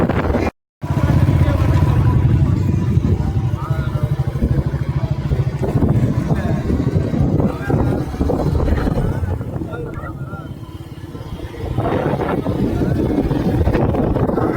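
A Royal Enfield Bullet motorcycle engine thumps steadily while riding, heavily buffeted by wind noise across the microphone, with a brief dropout near the start.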